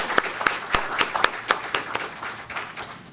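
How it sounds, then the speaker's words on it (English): A small crowd gives a short burst of applause at the O.T.I 50th anniversary cocktail event, with distinct, unevenly spaced claps close by. "Please give yourself a round of applause"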